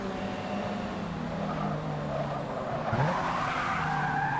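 Car tires skid and squeal as a race car drifts across grass in Forza Motorsport 6, a steady loud screech over engine drone with a sharper swell near the end.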